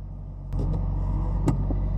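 A Ferrari 458 Spider drives close by with a steady low engine rumble, which grows louder after a brief quiet start and carries a few sharp transient clicks and knocks over the drone.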